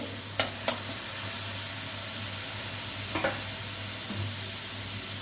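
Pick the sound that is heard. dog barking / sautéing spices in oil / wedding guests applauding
sautéing spices in oil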